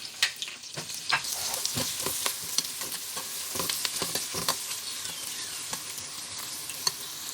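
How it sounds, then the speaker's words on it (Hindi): Chopped onions fry in a cup of oil in a deep cooking pot, a steady hiss of sizzling broken by frequent clinks and scrapes of a stirring spoon, close and clear with no talking. "सबसे पहले देगची में मैंने 1 कप ऑयल डाला है, उसमें मैंने प्याज डाल दिया है और इसको हम लाइट ब्राउन सा फ्राई करेंगे।"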